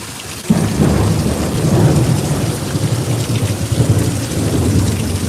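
Heavy thunderstorm with pouring rain and rumbling thunder, a dense continuous roar of rain that kicks in abruptly, loud and close, with low thunder rolling underneath.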